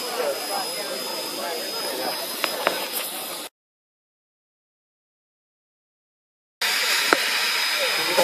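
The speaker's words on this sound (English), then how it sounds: "What's that steam coming out of the back of the engine? Is that from the blowers?" Steam blowers hiss on Nickel Plate Road 765 steam locomotive, a steady, broad, loud hiss with faint clicks. It cuts to silence for about three seconds, then resumes at the same level.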